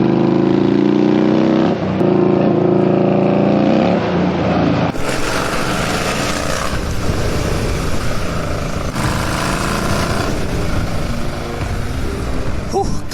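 Motorbike engine ridden over a rough, pothole-strewn road, a loud close drone that shifts in pitch partway through as the bike accelerates, with jolting road noise and no talking.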